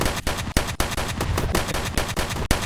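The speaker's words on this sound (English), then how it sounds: "I can fire exceptionally fast." Rapid bursts of gunfire in the video game iota, dense repeated shots in quick succession with a few brief gaps, loud and close throughout.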